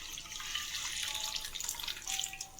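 Water is poured into a dirty nonstick pan, a steady bright splashing and trickling that runs for a few seconds with no voices.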